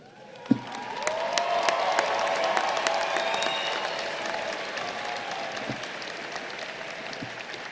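Graduates at a Georgia Tech commencement burst into sustained cheering and applause for their parents and loved ones, a large crowd swelling quickly and holding steady throughout.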